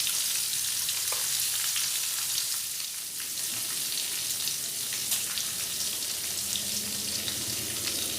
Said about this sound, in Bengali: দিয়ে ভালো করে নাড়াচাড়া করে লাল লাল করে ভেজে তুলে নেব।